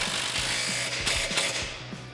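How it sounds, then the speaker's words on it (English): A ratchet turning a 19mm socket on a Jeep Wrangler JL suspension shock bolt during a lift-kit install, a quick run of close, crisp clicks repeating at an even pace over a low background hum. "we're going to use a 19mm socket for the bolt and an 18mm for the nut."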